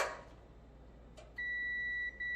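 A continuity tester held on an electric dryer's thermal fuse gives a sudden steady electronic beep that sounds for about a second, breaks off for an instant, then resumes, clear and close in a quiet room.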